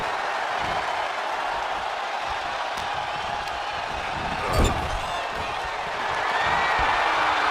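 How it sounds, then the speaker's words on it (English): Steady arena crowd noise from a WWE 2K24 video game wrestling match, a continuous roar of cheering that swells slightly toward the end, with one brief thump midway. "The crowd is impressed by their mat wrestling skills"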